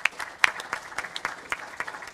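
An audience claps for Paul at the Scouts SA annual general meeting, light, fairly sparse handclaps in a loose rhythm, moderately distant, with no talking.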